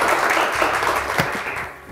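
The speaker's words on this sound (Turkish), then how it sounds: "Alkışlar Selin Hanım için." Loud applause from a television game show studio audience, dense clapping that swells and then gradually fades toward the end.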